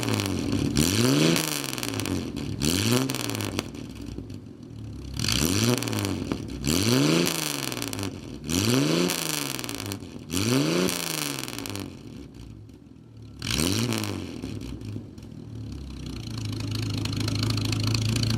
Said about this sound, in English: now I'm going to let you hear the exhaust